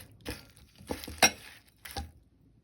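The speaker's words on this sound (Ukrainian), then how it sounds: "І гарненько все перемішаю" Shrimp being stirred with a little oil in a bowl, a few soft scraping and clinking strokes of a utensil, close and quiet with gaps between them.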